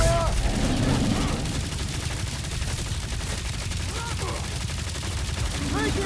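Sustained rapid gunfire in the Guardians of the Galaxy video game, a dense continuous barrage of shots with bursts of game effects layered on top, loud throughout.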